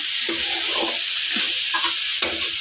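A cauliflower paratha filling with fresh coriander is sautéed, producing a loud continuous hiss of frying with a few short scraping stirs of the spatula.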